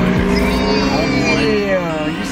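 An Audi RS3 drives past at a Scottsdale cars and coffee meet, its engine a loud, close, rising and falling tone as it passes, with people talking nearby.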